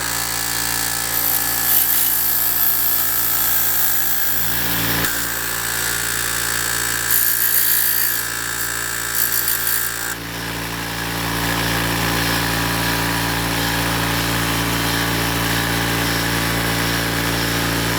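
A grinding wheel sharpens the points of steel road spikes, a loud, continuous motor whine with rasping contact as the steel is pressed against it, easing briefly midway before running on steadily.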